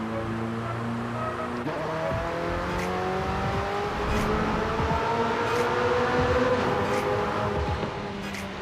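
A McLaren 765LT sports car drives with a steady, loud engine drone that climbs gradually in pitch, heard from inside the cabin with road and tire noise underneath and no talking.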